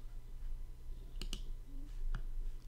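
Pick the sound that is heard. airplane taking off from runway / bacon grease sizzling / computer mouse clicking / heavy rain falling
computer mouse clicking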